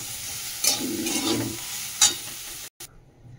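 Soybeans frying in a pan with turmeric and salt, heard as a soft steady sizzle with two sharper stirring scrapes and a brief cutout near the end.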